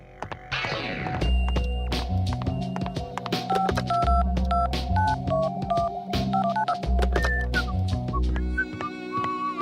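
Telephone being dialed for a jailhouse phone call in a cartoon, a series of distinct keypad beeps in uneven rhythm over low background music, loud and close.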